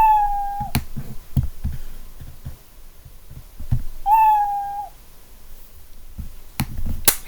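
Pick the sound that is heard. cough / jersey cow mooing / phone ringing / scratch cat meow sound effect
scratch cat meow sound effect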